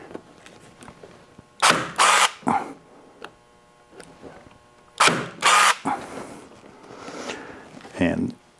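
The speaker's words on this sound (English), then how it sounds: "Shoot a couple staples in here." A staple gun drives stainless staples into a VW Mk1 Cabriolet top: two pairs of sharp, loud clacking bursts come a few seconds apart, with quieter handling noise and some talk in between.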